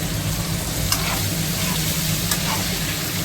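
Ground cumin and coriander sizzle steadily in a hot pan for an elephant apple pickle, a dense, even crackle with a few brief scrapes of stirring and no voices.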